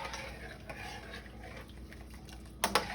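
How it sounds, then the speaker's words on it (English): Homemade chicken noodle soup stirred in a pot, a quiet steady scraping and swishing under a low kitchen hum, ending with a couple of sharper clinks of the spoon against the pot. "Now I'm getting ready to stir all this up and let it start cooking."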